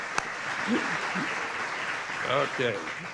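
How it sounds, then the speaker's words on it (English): A small group applauds to welcome a new member, Craig, at a meeting, the clapping steady and moderate for about three seconds, with someone talking over it briefly near the end. "let's give him a round of applause."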